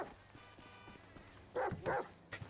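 Dog barking inside the video game GTA V, a few short loud barks bursting out near the end over quiet game background, after softer low sounds earlier.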